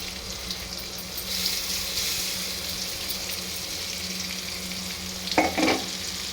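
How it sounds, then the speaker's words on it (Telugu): Ground masala paste frying in oil beside tomatoes, a steady wet sizzle and bubbling hiss with a couple of stirring clatters near the end, no voices. "ఇలా బాగా ఆయిల్ మసాలా అనేది వేగిపోతుంది"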